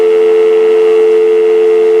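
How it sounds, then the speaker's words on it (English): A Uniden TRU8885 cordless phone base unit plays a dial tone through its speakerphone, one steady, loud, unbroken tone sounding alone for the whole stretch. "Can you hear the dial tone perfectly on the speakerphone of the bass unit?"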